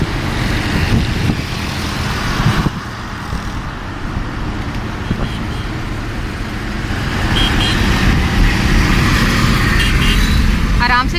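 A car driven through Karachi traffic gives a continuous low rumble of engine and road noise, with other vehicles passing around it and faint higher sounds near the end.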